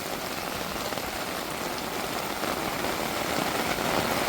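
Heavy rain pours down in a dense, steady roar with no breaks, loud and close, and no voices are heard.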